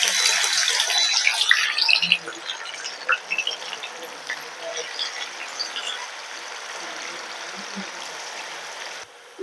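Broad beans (avarekalu) dropped into hot oil sizzle and crackle loudly at first, then the bubbling hiss gradually settles into a softer, steady frying sound close by.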